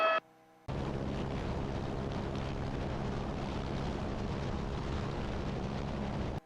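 An Airbus Astar helicopter lifting off with a long-line load, a sudden strong, steady rotor and turbine roar mixed with wind buffeting, loud and close throughout.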